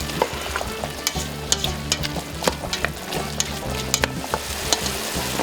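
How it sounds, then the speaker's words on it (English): Vegetables sautéing in a pan for a Guinness Irish casserole: a steady sizzle and frying hiss, broken by repeated scrapes and taps of stirring, close and moderately quiet, with no talking. "while we're waiting for this to saute"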